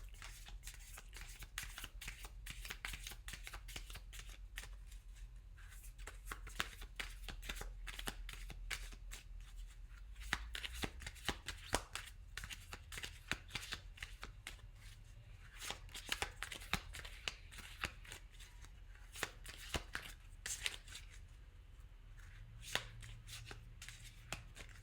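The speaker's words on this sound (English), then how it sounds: "I'm going to shuffle this deck and just pull one card for you" A tarot card deck is shuffled repeatedly, a dense run of crisp riffling flicks and taps close by, continuing steadily with brief pauses and no talking.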